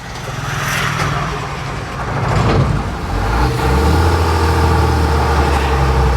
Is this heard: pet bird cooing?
no